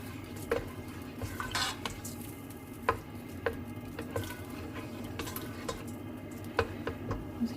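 Butter melting in a pan gives a faint low sizzle, punctuated by light clinks and taps of a utensil against the pan, close by with no talking.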